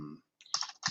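Fingers tap a computer keyboard while typing a domain name, two quick bursts of soft, close clicks separated by a short pause, quiet and clear.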